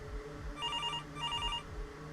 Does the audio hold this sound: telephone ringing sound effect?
yes